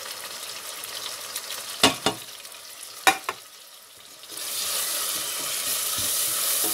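Food fries in a pan for a potato and egg curry. A few knocks of a stirring spoon come first, then a loud, steady sizzle takes over and continues to the end.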